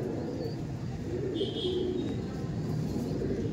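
Pure Pilanka breed pigeons coo softly and repeatedly in a loft, low rolling calls over a steady background hum, with a brief higher chirp from another bird in the middle.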